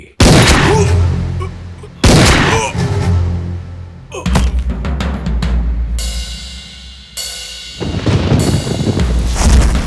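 Gunfire in an action movie, several loud booming shots in bursts over a dramatic music score, close and punchy, with speech mixed in.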